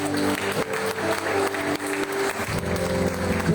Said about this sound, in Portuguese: Aplauda Jesus pela vida dele.